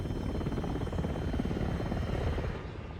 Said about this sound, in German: Nur ein Hubschrauber.